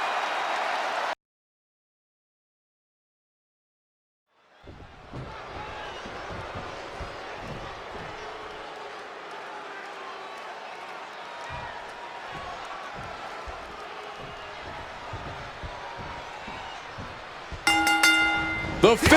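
A game arena crowd roars and cheers at a WWE 2K26 wrestling match, a dense sustained wash of noise after a short silence, with sharper impacts and a louder burst near the end.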